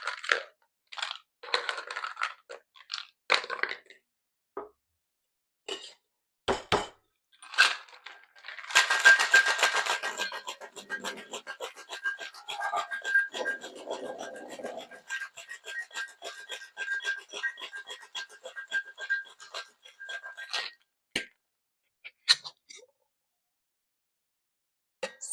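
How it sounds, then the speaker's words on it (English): Ice rattles and churns inside a cocktail shaker tin in a dense, steady scraping rush that lasts about ten seconds. Scattered clinks and bumps come before and after the shaking. "we are going to add our ice to our shaker tin, and we are going to shake for roughly about 15 to 20 seconds"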